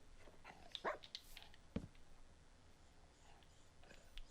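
A dog in the Minecraft Legends video game gives a few faint, brief yips and barks, scattered over a quiet, low background.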